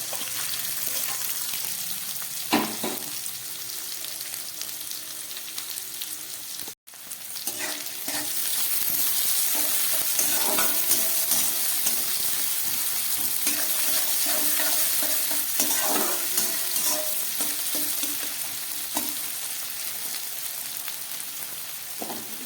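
Chopped ginger, two green chilies and onion fry in hot oil in a pan, with a loud, steady sizzle and crackle and occasional stirring scrapes, a brief break early on, and no voices.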